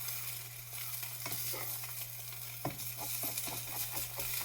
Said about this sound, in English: So the heat's high because we want to sear the bottom of the egg, really fry it up.